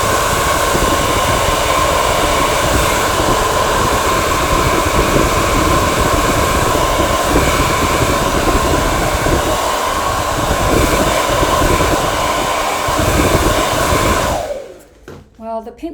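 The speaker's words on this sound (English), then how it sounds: "I'm just going to quickly use a hairdryer here" A hair dryer blows loud and steady at close range over wet watercolour paint, a constant whooshing roar that cuts off abruptly near the end.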